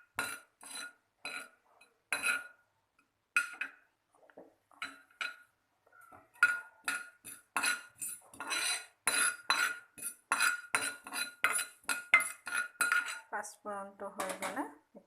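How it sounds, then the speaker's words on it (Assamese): Panch phoron spices dry roasting in a bare pan while making sama kochu leaf chutney, heard as repeated close scraping and clinking of a utensil against the pan in irregular bursts, growing busier and denser toward the end. "কেৰাহী মানে পেনত মই অকণমান পাঁচফোৰণ মই সুদা চৰুত ভাজি আছোঁ"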